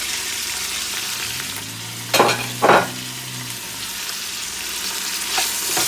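Red peppers for a beef stew fry in a pot, a steady low sizzle with two brief louder bursts of stirring or scraping near the middle, close and with no talk.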